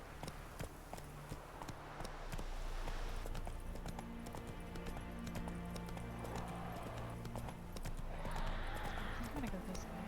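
Hooves of Roach, the horse in The Witcher 3 video game, clip-clop steadily through a galloping run, joined by a brief neigh and game ambience, while a person talks over the gameplay.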